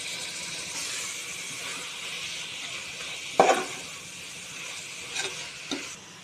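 Onions, tomato, mint and coriander sauté in a pan for chicken biryani, giving a soft steady sizzle with a few louder stirring scrapes and clinks, heard fairly close with no talk.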